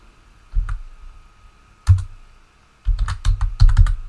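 Keystrokes on a computer keyboard while entering a spreadsheet formula, in short bursts of clicky taps: a few near 0.6 and 1.9 seconds, then a faster run of typing toward the end, close and moderately loud.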